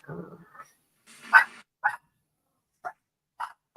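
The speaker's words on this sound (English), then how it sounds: "you can hear my dog barking in the back" A dog barks several times in short, separate bursts, a few fairly close and others more spaced out, with a brief low murmur at the start.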